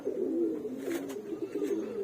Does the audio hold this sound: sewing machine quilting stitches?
no